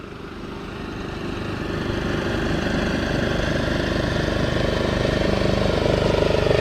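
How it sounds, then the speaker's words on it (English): A riding lawn mower engine runs steadily near a border road, a continuous droning rumble that grows slightly louder over the stretch with no voices. "Looks like we have a native here on a lawnmower."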